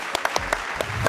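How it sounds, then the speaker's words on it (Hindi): A studio audience on a late-night talk show claps in steady applause, with a few sharp, prominent individual claps standing out through the short burst. "बजाएं जी, तालियां तो बजाएं।"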